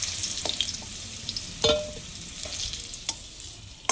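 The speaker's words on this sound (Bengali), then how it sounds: "একটু লাল করেই ভাজলাম আলুগুলো।" Potatoes frying in oil for a vegetarian cauliflower curry give a soft, continuous sizzle, broken by several sharp spatula knocks and scrapes against the pan.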